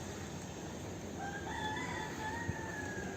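A rooster crows at a distance near the old Moorish city walls of Gibraltar, a faint drawn-out call rising over steady outdoor background noise, with no voices.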